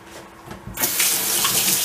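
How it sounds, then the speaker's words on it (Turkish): Kitchen tap turned on and running steadily into a sink while hands are washed during chicken marinade prep, a loud close gush starting abruptly after a brief quiet moment. "elleri yıkayalım"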